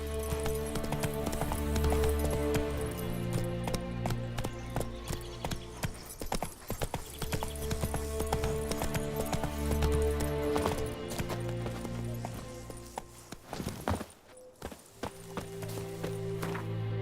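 Hooves of a galloping horse in the video game The Witcher 3 beat in a fast steady clip-clop, close and prominent, over layered game music and ambience, with a brief drop in level near the end.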